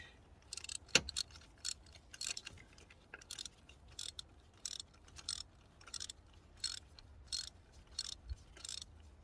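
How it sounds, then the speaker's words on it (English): Spanner and ratchet tightening parts during a Toyota Auris Hybrid 1.8 service: a steady series of faint, rhythmic ratchet clicks in short bursts, with occasional soft metallic knocks in a quiet workshop. "now I'm just tightening out the spanner and the ratchet"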